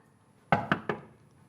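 Three firm knocks on a door land close together, loud and near, with nothing else around them.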